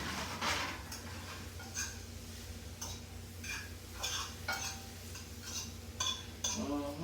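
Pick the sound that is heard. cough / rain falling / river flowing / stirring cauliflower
stirring cauliflower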